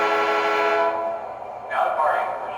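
O scale model train pulled by an E unit diesel locomotive, with a steady sustained horn-like tone for the first second, then quieter running and a brief higher whistle-like tone near the end.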